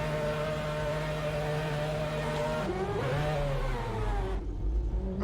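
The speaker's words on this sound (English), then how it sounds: "we are in the Mazda 787B, just a monster of a Group C car" Mazda 787B Group C race car in a racing video game at Monza, its engine droning loud and steady with a sustained high-pitched whine, pitch dipping and rising around a gear change midway, then easing off near the end.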